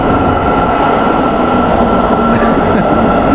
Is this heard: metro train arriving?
yes